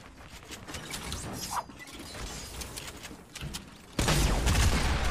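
Gunfire in a Fortnite-style shooter game, with rapid cracking shots mixed with busy mechanical game noise, growing to a loud dense burst near the end.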